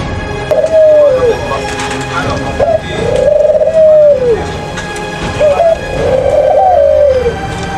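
Pigeons coo nearby in three repeated soft, rounded phrases, each a rising then falling murmur, with faint background noise between calls.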